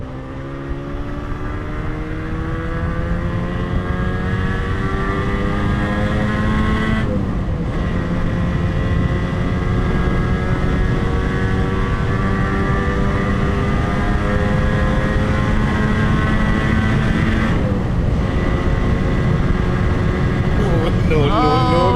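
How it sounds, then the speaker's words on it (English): A 1980 Moto Guzzi 250 TS motorcycle engine idles and revs loudly and steadily up close, with pitch rising and falling and two brief dips near the seven- and eighteen-second marks. "I just have a loud 80s bike, which is a loud 70s bike."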